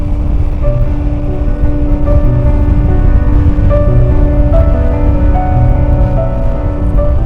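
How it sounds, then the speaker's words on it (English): Steady rain falls in a Norwegian national park, a loud, continuous broadband hiss with no voices, joined by faint sustained tones like a nearby engine or vehicle hum. "A little bit of rain has been falling here."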